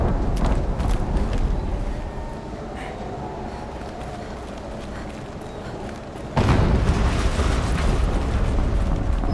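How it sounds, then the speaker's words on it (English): A loud, sustained explosive rumble from the video game Horizon Zero Dawn, with dense low booming throughout and a sharp louder surge near the end, as of a fresh blast. "An explosion."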